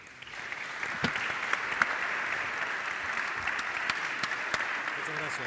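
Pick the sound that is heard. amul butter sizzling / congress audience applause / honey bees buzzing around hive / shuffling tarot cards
congress audience applause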